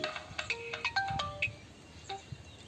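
A mobile phone ringtone plays a quick electronic melody of short, bright, beeping notes in a lively repeating pattern. Faint and alone, with no talk over it.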